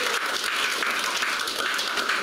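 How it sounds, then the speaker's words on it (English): An audience at a talk on Chinese humor breaks into applause, a steady wash of many hands clapping at moderate distance with no single claps standing out. "Give him a round of applause"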